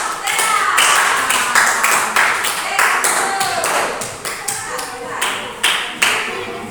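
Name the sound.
class clapping for a group of students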